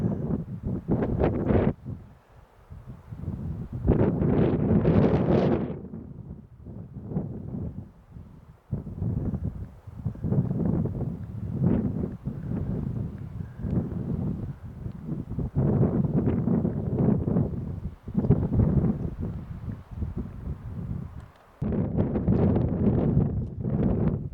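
Cold wind gusting across a microphone on a mountain backpacking trail near a lake basin, a steady rough rumble with stronger bursts and brief dips over the whole stretch, no talking.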